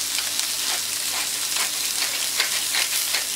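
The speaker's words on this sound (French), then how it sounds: "je vais cuire rapidement des petites tomates cerises" Small cherry tomatoes fry quickly in a hot pan, giving a steady, bright sizzle that fills the whole stretch with no talking over it.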